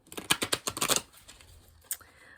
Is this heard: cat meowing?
no